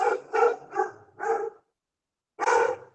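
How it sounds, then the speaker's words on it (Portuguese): A small dog barks in a quick run of four yaps, then pauses and gives one more bark, close and clear with no other sound around it. "um cachorrinho latindo aqui"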